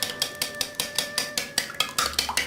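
Eggs mixed with salt and Chinese cooking wine, beaten with a utensil clicking against a bowl in a steady rapid rhythm of about a dozen close, crisp knocks, heard alone.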